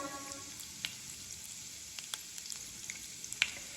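Raisins and grated coconut fry in a pan with a soft, faint, continuous sizzle and scattered small pops and crackles, with no voices.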